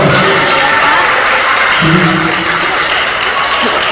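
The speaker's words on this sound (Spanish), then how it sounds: "Que se escuche fuerte el aplauso." Audience applause at a conference in Uruapan, a loud, continuous wash of clapping from a room of people that holds steady throughout, with a brief spoken word near the end.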